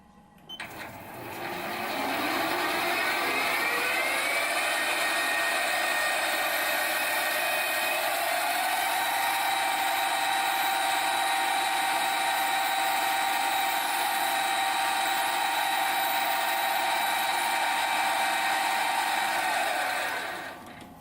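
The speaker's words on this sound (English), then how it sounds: "this is a number 50 drill bit, so I'm going to drill and then tap 2B56 UNC." A number 50 bit drills into a metal part of a hit-and-miss engine fuel mixer on a machine tool. It gives a steady, loud, whining hum with a shifting high-pitched tone that runs continuously for about twenty seconds and is heard without talk.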